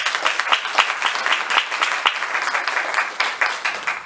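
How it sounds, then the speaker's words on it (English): A studio audience at a talk show taping breaks into dense, sustained applause, many hands clapping together at fairly close range in a full, even wash of sound with no one speaking. "give yourselves another round of applause"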